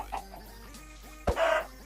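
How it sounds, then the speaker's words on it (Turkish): A chicken clucks in short repeated bursts, with a sharp louder squawk near the end, set over a quiet game-like background hum in Minecraft. "Tavuk."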